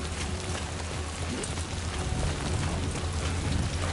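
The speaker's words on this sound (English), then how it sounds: "one thing I'm not clear on is if this is normal rain now, or if this is still timefall rain" Steady heavy rain, the timefall of the video game Death Stranding 2, pours continuously as a dense, even hiss with a low rumbling undertone, loud and close throughout with no talking.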